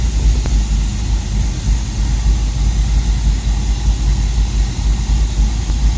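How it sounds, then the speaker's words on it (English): A warmed-up 2018 Camaro ZL1 1LE with a stage 3 tune idles at about 800 RPM, a loud, steady low rumble with slight pulsing throughout. "So right now I've got it idling about 800 RPM when it's all warmed up."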